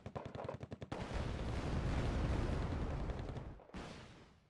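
A rapid burst of automatic gunfire in Wargame: Red Dragon gives way to a loud, sustained roaring rush like a missile launch from a Chaparral, which cuts off abruptly before a quieter tail.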